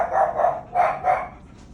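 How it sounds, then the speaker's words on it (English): Dogs at an orthopedic exam bark in a quick run of four loud, close yaps, with a brief pause between the pairs. "We got them all barking now."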